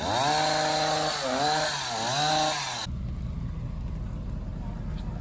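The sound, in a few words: hedge trimmer trimming hedges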